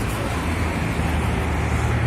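City bus number 397 rushing past in a dedicated bus lane on a central Tbilisi street in the evening, a steady roar of engine and road noise blended with surrounding traffic, with some faint talk.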